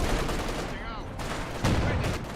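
Gunfire in a World War II video game during a fight against a Panzer IV tank, dense booming shots and rattling bursts filling the clip at steady loudness, with a heavy blast near the end.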